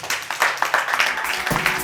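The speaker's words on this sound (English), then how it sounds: "a round of applause for yourself" Scattered applause rings out at a debate event, a brief, moderately loud burst of uneven claps.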